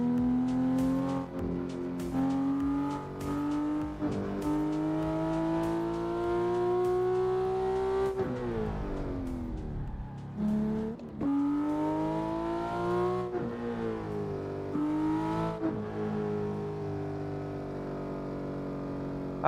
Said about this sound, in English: the Porsche 911 GT3 is pretty nice